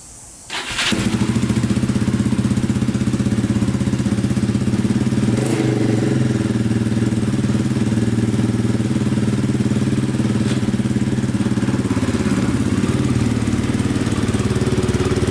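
A Yamaha Raptor 660 quad, a rusty junk machine burning off WD-40 on its pipe, starts up on a driveway and settles into a loud, steady, throbbing single-cylinder idle.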